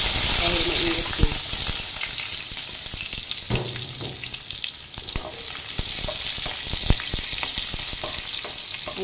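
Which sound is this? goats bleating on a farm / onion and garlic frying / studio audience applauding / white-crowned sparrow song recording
onion and garlic frying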